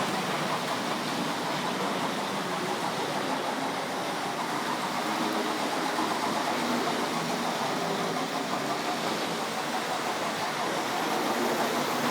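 A Hornby model train, the Princess Elizabeth locomotive in LMS livery, runs steadily along its track with a constant dense rushing rumble, even and unbroken throughout, with no voices.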